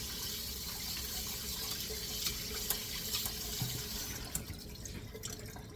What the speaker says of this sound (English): Now they want you to rinse this in cold water.